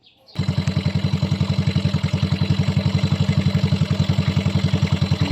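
A Yamaha Mio i 125 scooter engine starts up and settles into a steady, fast, rhythmic idle putter, loud and close throughout.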